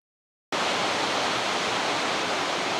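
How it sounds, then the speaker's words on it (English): A dense, steady hiss of heavy rain outside a blacksmith's shop begins abruptly after a moment of silence and continues loudly without letup. "As I've started this, it's raining harder."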